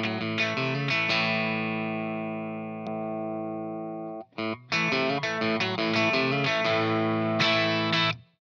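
An electric guitar through an Analogman King of Tone boost pedal plays a chord that rings and sustains, then a series of choppy, slightly overdriven strummed chords.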